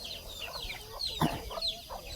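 Striped chickens in a village yard give a few soft, scattered clucks and brief calls, fairly close and moderately loud over a faint background.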